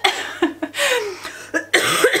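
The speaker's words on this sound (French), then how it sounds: "J'essaye de pas tousser quand je suis en caméra" Several close, sharp coughs in a home kitchen while potatoes cook, coming in separate bursts across a couple of seconds, with no talking between them.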